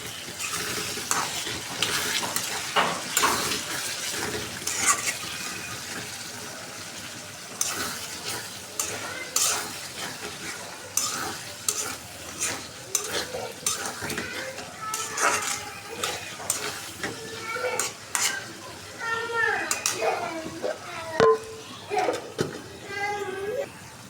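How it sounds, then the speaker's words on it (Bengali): Potatoes are stir-fried in a pan, with a soft background sizzle and frequent scraping and clattering of a spatula at an uneven rhythm, and a voice talks intermittently over the cooking. "এই যে আলুগুলো দিয়ে কষাইতেছি আমি।"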